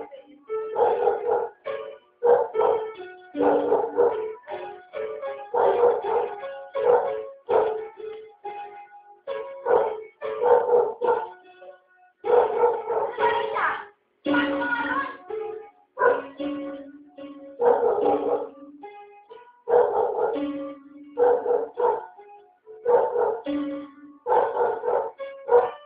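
A dog barks in a long run of loud, close barks that come in quick bursts with short pauses, some sharp and yelping, some drawn out, continuing without letup.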